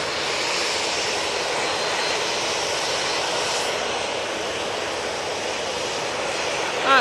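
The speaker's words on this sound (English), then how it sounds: "we'll go on to the departing aircraft now. Just edging forward" Departing airliner at Manchester Airport edging forward on the ground, its engines running in a steady, loud broadband roar that holds evenly throughout.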